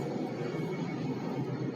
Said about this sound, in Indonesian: ada suara pesawat.